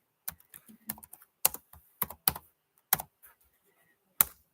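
Irregular keystrokes on a computer keyboard during a live sports card break stream, each tap sharp and close, spaced unevenly with longer gaps between a few harder presses, no voices.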